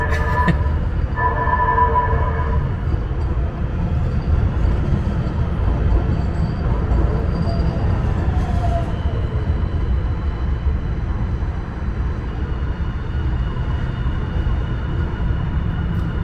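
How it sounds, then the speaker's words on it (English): A passing train gives a steady, loud low rumble that lasts throughout, with a few horn-like tones near the start and a slight dip in level toward the end. "Let me let this train pass."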